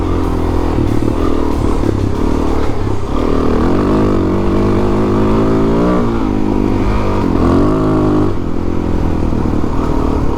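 Suzuki DRZ400 dual-sport motorcycle with a slight carburetor flat spot, ridden on the Del Sur Ridge trail: a loud, steady single-cylinder engine drone with rising and falling revs and some clatter throughout.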